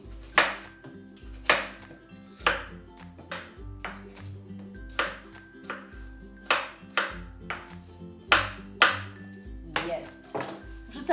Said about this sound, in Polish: Pokroimy je na większe, takie centymetrowe kostki.